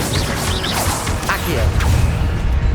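The Incendio fire spell in Hogwarts Legacy is cast with a whooshing, crackling burst of magic layered over game effects and swishes, loud and close.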